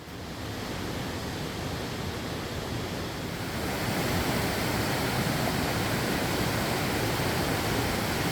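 A waterfall heard from the base of the falls, a steady broadband rushing roar that grows fuller and louder partway through and stays constant, with no voices.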